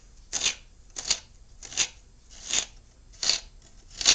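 A bunch of cilantro being shredded while preparing white chicken chili, six crisp, rustling cutting strokes at an even rhythm, close and fairly loud, with quiet gaps between them.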